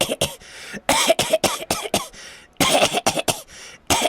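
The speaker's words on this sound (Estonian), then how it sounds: "Minu arust on teil ikka täitsa tavaline köha." A person coughs repeatedly in close, loud, sharp bursts. The coughs come in uneven clusters of quick hacks with brief silences between the groups.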